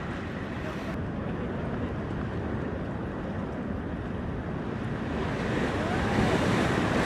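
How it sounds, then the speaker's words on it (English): Heavy ocean swell crashes against rocks at the Avoca rock fishing spot, a constant loud roar of surf with wind buffeting the microphone. "Definitely don't fish if the swell's like this."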